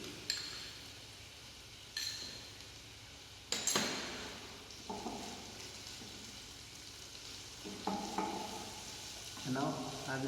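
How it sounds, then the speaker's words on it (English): Green chilies and other hara bhara kebab ingredients sauteing in a pan: a steady moderate sizzle with a spoon scraping and stirring in short bursts, near and alone. "Saute it a bit."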